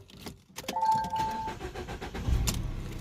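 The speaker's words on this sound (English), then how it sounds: "So if I start the car now" A Peugeot 208 1.4 VTi with a stalling, hard-starting fault cranks and fires up, the starter whir giving way to a steady idle, close by with no talking.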